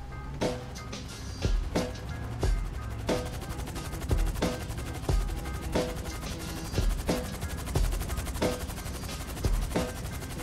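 GTA 5 video game gunfire: rapid automatic bursts and single loud shots crackle repeatedly over a continuous game soundtrack, steady and close throughout.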